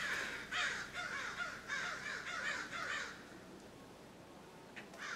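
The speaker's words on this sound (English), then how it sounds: "You got the crows going crazy." Several crows caw loudly outdoors in rapid, repeated bursts for about three seconds, followed by quieter scattered calls against a hissing background.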